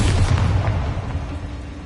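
A Bombarda blast spell in Hogwarts Legacy bursts with a loud low boom right at the start, then its rumble slowly fades away without any voices.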